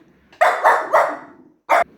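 A puppy barks in short, close, loud yips, three quick barks in a row followed by a pause and a single final bark.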